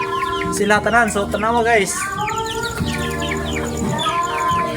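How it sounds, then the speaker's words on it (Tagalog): Two hens and a rooster in a backyard coop: repeated clucking and throaty calls in overlapping bursts, close and fairly loud, with someone talking over them. "Ang dating duha ka mungaan o isa ka sunoy guys."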